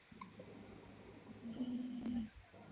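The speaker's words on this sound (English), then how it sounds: "Who's snoring, dog?" A dog named Big Mama snoring faintly nearby, a soft low snore rising into one drawn-out rattling breath midway, alone with no talk.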